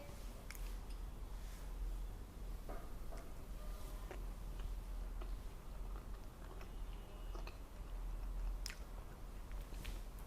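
Someone chews a soft, chewy microwave-made kalakand milk sweet made from condensed milk, with quiet close-up squishy mouth sounds and occasional small clicks over a low steady background hum.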